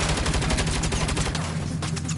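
Rapid turret gunfire from a mounted gun in the Saints Row video game, a loud, continuous burst of shots that keeps hammering throughout, with a brief drop in low rumble partway through.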